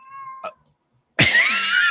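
A house cat lets out a loud, drawn-out meow lasting close to a second, right near the listener, preceded by a brief faint squeak and silence.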